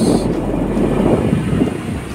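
A Honda Civic's car air conditioner blows a steady, loud rush of air that roars continuously, close up, with no talking.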